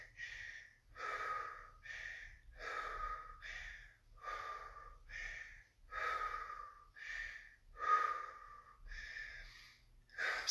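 Heavy, rhythmic mouth breathing during a side plank exercise, a close series of about ten forceful huffing inhales and exhales at a steady pace, with no talk.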